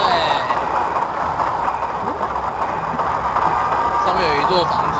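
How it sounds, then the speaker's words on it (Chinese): A train rumbles past in the video game Alice: Madness Returns, a steady rolling rattle with clacking and squealing. Voices talk over it. "哇哦，是火车哎"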